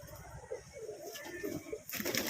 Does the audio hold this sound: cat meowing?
no